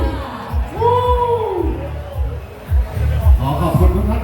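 Festival crowd at the Chonburi buffalo racing event cheering and whooping in answer to an announcer, a loud, swelling roar of many voices with rising shouts, punctuated by bursts throughout.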